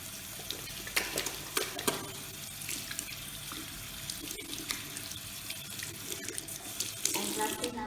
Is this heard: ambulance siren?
no